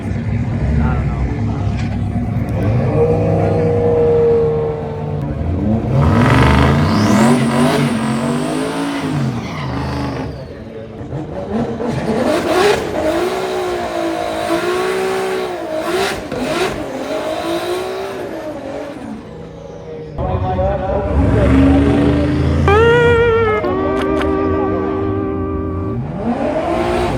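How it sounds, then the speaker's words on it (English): A drag car engine revs hard and races at a drag event, with loud sweeping engine roars, surges and tire noise rising and falling over a long stretch, and people talking nearby. "is about to race an actual drag car"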